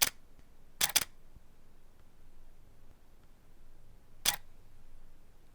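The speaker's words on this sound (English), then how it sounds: "press and hold down the shutter button until all your bracketed photos are taken." A camera shutter fires while taking bracketed exposures of a real estate interior: a quick double burst of sharp clicks, then a lone click a few seconds later, close and crisp against a quiet room.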